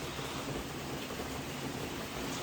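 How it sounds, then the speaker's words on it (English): Heavy rain pours steadily during a thunderstorm in Kerala, a dense, constant wash of drops close by with a low rumble of thunder underneath and no voices. "It's a calm storm, then it's a storm, then it becomes calm again."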